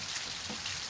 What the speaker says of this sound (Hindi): लगातार बारिश।